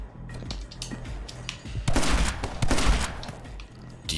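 Gunfire from a weapon in the video game My Friend Pedro: quick bursts of sharp shots over a low hum, swelling into a dense, loud fusillade in the second half.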